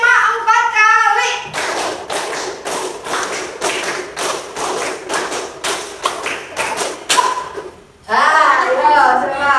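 A classroom group claps hands together in a steady rhythmic pattern, sharp repeated claps for several seconds, with voices chanting before and after.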